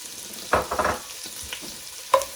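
Chopped onion added to an oil mixture for marinara sauce over a medium flame, a soft sizzle with a few brief scraping and tossing bursts near and fairly quiet.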